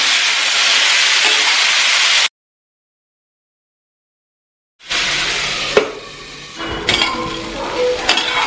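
Drumstick flowers and potatoes sizzle in a pan with a loud, even hiss, which cuts out for a couple of seconds, then returns softer with clinks and scrapes of a utensil against the pan.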